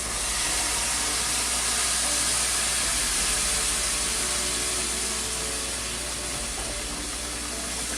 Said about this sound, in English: I'm going to add almond milk to my pan